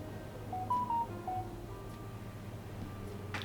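A phone dialing in the video game Final Fantasy 14, a few short electronic dial tones in quick succession over a low steady background hum, followed by quiet ticks.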